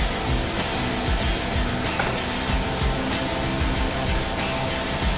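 Airbrush spraying thinned, watery paint during a test pass for miniature preshading: a continuous close hiss of air and paint, steady and loud throughout with no voices.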